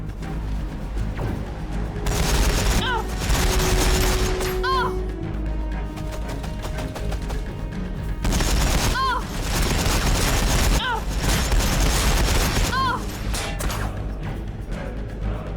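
Heavy gunfire and explosions in Warhammer 40,000: Battlesector come in dense, rumbling bursts of volleys and booms, loud and continuous, with voices under the battle noise.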